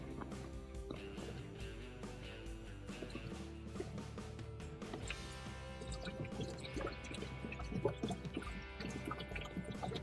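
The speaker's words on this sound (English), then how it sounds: "take the bottle of your ice machine cleaner and just pour it, the entire contents," Ice machine cleaner pours from a bottle into the pan of an ice maker, giving soft dripping, splashing liquid sounds that run steadily under faint background noise.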